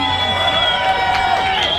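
Crowd at a May Day rally applauding and cheering for a protest singing group, a steady wash of clapping and shouts with scattered whoops, loud and close throughout.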